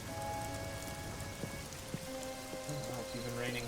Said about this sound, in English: Oh, it's even raining here.